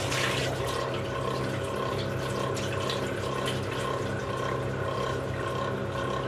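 Water runs and splashes steadily as chicken is rinsed and drained, close and continuous at moderate volume, with no talk.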